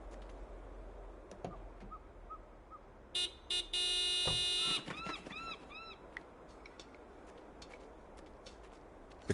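A car horn sounds in the Broken Sword 5 video game, two short toots followed by a longer sustained honk, fairly clear over a quiet ambient background with scattered faint tones.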